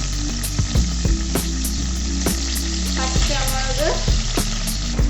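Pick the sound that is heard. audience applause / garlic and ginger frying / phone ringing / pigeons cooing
garlic and ginger frying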